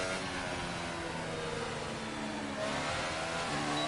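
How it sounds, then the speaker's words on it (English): A McLaren Formula 1 car in F1 2018 drives past, its high-revving engine droning steadily and loudly throughout, the pitch shifting partway as it passes. "we're gonna let this McLaren go past"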